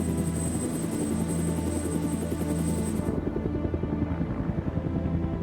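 A helicopter flying during a humanitarian airlift, its rotor beating in a rapid steady thump with a high whine that cuts off partway through, loud and close, continuing alone without any talk.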